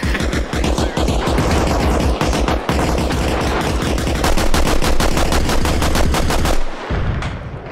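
Sustained automatic gunfire in the game ARMA Reforger, with rapid bursts of shots and overlapping weapons forming a loud, dense barrage that cuts off abruptly near the end.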